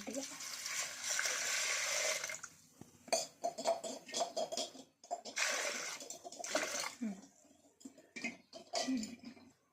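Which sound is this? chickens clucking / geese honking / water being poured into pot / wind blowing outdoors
water being poured into pot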